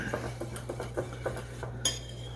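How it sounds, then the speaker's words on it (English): A spoon stirs a ham and cheese pie mixture with nutmeg in a bowl, giving soft repeated scrapes and light clinks against the bowl, fairly quiet and close. "You just want to stir it to get it incorporated."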